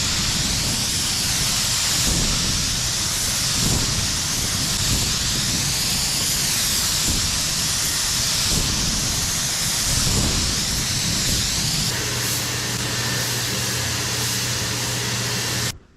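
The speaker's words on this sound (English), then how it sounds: "That's going to adjust our fan, give us a nice wide spray pattern." A paint spray gun set to a wide fan pattern at 25-30 psi sprays a truck, giving a continuous loud hiss of air and paint that holds steady throughout, near the microphone.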